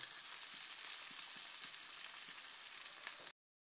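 Spice paste of ginger, garlic, green chili and turmeric frying in a pan, a steady bright sizzle close up, even and continuous for a few seconds before cutting off abruptly.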